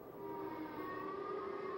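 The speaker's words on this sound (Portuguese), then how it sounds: "Enquanto as sirenes de tornado tocavam" Tornado warning sirens wail steadily with a sustained, slightly wavering tone, faint and distant and unbroken by speech.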